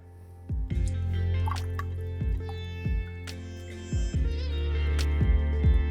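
Soaked lentils for a Bengali sour dal being tipped into a cooking pot, heard as a series of soft wet plops and drips spaced a second or so apart, close and fairly quiet, with no talking.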